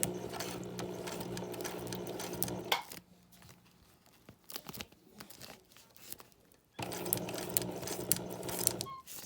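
Sewing machine stitching a recycled chip-bag coin purse: bursts of fast, steady mechanical whirring at the start and end, separated by a quieter pause filled with crinkling plastic handling.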